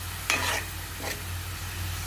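Green chillies and chopped onions fry toward golden brown in a pan, a soft steady sizzle with two brief louder stirring scrapes, close and quiet over a low background hum, no voices.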